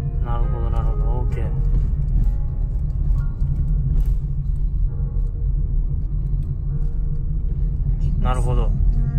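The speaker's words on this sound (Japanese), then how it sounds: "この車を包み込むような音がすごいですよ" A car driving on a road in Laos, its deep rumbling engine and road noise steady and enveloping throughout, with a person speaking briefly over it at the start and end.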